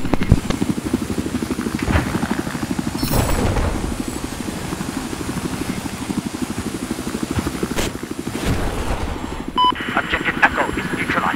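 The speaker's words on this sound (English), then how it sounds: "There's an enemy helicopter east of you." Enemy helicopter in the Battlefield 4 video game on a large Conquest map, a steady rotor and engine drone running throughout under game effects and voice chat.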